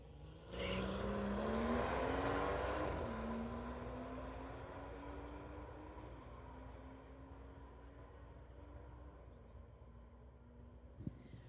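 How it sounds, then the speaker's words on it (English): A 2016 BMW 340i on a drag strip launches hard with a rising engine roar, climbs through gear changes and fades into the distance down the track, loud at first and then steadily quieter. "Ashen Deep Sadu 2016 BMW 340i in the TCS lane."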